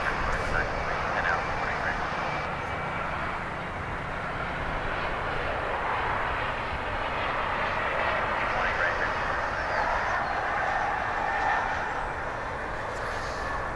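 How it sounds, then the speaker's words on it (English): An Airbus A300 waits to take off at DFW airport at daybreak, its engines giving a steady, broad, distant-sounding roar that runs without a break for about fourteen seconds. "that A300. Kind of waiting for a place to take off."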